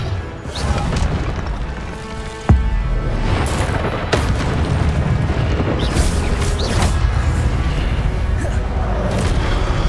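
Repeated booming bursts of Incendio fire spells in Hogwarts Legacy, a dense, loud stream of blasts and crackling with sharp hits standing out, over continuous game music and noise; a voice speaks at times.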